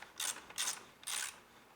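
A parking light bulb holder is unscrewed on a BMW R1200RT motorcycle, giving three short, close scraping twists in a steady rhythm with no talk.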